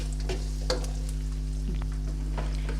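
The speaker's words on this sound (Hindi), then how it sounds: "इसको मैं थोड़ी देर फ्राई करूँगी।" Chicken sizzling steadily in a frying pan for spaghetti, a constant crackling hiss with a few sharp pops and stirring scrapes, close and alone.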